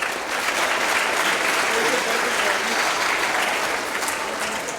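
Steady, sustained applause fills the room at a school sports awards ceremony, with many hands clapping evenly for several seconds before starting to fade.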